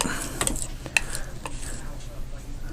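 A brush or stick scrapes and stirs through red and green paint being mixed in a container, with soft irregular swishes and a few light knocks against the sides, close and steady.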